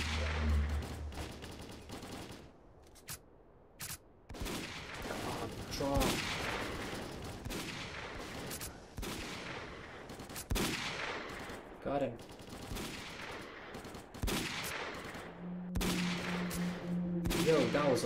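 Bursts of automatic rifle fire and single shots crack and rattle through a firefight with mercenaries in S.T.A.L.K.E.R.: Call of Pripyat, coming in uneven volleys with short pauses. A voice is briefly heard among the shots.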